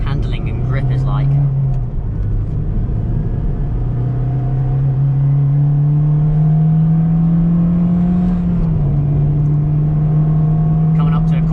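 A Honda DC5 Type R drives fast along a windy road, its engine droning loudly and steadily from inside the cabin, with the pitch rising and dipping slightly as it changes speed.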